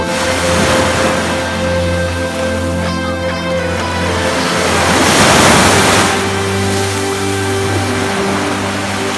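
Black Sea waves in Sochi wash in with a continuous broad hiss of surf that swells louder midway, under a steady low hum, with no one speaking.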